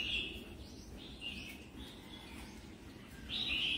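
Caged songbirds hop about and chirp, giving short high tweets in scattered bursts, with a louder pair near the end, over a low rumbling background.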